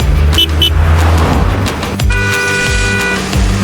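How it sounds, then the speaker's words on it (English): A motorbike engine rumbles steadily and close by, with a couple of sharp horn toots cutting in partway through over the ongoing traffic drone. "M for motorbike."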